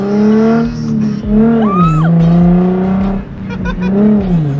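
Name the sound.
Nissan GTR car driving on public road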